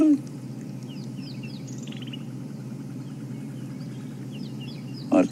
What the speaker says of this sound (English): I can hear a ground scraper thrush